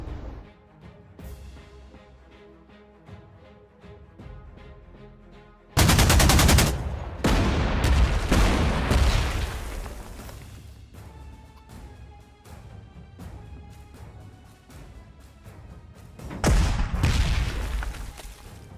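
Gunfire and explosive booms from the strategy video game Panzer Corps 2, a sudden loud burst of shots after quieter game music, with another heavy volley near the end; no speech.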